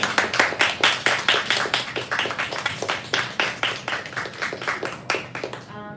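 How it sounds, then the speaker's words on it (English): After a poetry reading, a modest audience claps in a steady stream of distinct, crisp hand claps that fades slightly toward the end. "let's give them a round of applause"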